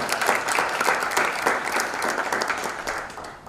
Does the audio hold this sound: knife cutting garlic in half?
no